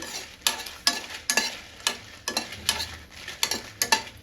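Food frying in a pan with repeated scraping strokes of a spatula at a steady rhythm over a soft sizzle.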